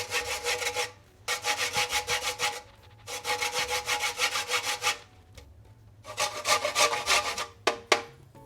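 Rhythmic scraping strokes of a zester grating fresh lime peel over a key lime tart, several bursts of rapid rasping separated by short pauses, close and fairly loud.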